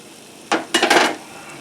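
Quinoa stirred in warm olive oil in a single pan with a utensil, a few short scraping, rustling strokes close up over a faint background.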